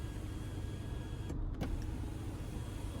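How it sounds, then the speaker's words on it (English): Electric motor whir of the power sunroof on a 2023 GMC Canyon AT4X pickup, heard from inside the cab as a faint steady hum with a brief click partway through, over quiet road and cabin noise. "I love that we do get a power sunroof, so we can either tilt that or slide it."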